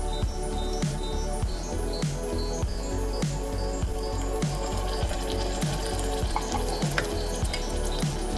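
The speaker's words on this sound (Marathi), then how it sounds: "आता ही देखील आपण तेलावर परतून घेऊया" Tomato paste fries in oil with onions for a cluster bean curry, a steady close sizzle broken by a regular rhythm of stirring scrapes and soft squelches roughly every half second.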